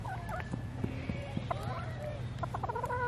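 Chickens cluck and make short warbling calls outdoors at a moderate distance, several birds overlapping over a low background hum, with faint voices nearby.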